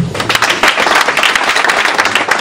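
Audience applause at a Paris promo ball for the 1993-94 class of École Masamba, dense steady clapping that fills the room, close and fairly loud, with no clear talking.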